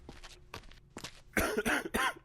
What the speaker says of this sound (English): mouth blood and coughing